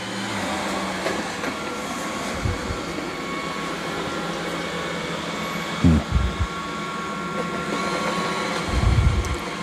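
Robot vacuum cleaner, a budget Roborock Q5 or Dreame D10 model, running across a floor and rug, steady whirring motor hum with a few low bumps and thuds, close by and continuous.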